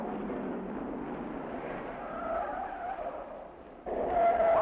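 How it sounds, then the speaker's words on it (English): A 1963 NASCAR Grand National race car skids sideways through turn 6 at Riverside, a steady rough tire scrub with engine noise across several seconds, heard from a distance in an old, thin recording. "Marshall Sargent skids and ends the race on top of the hay bales on turn 6."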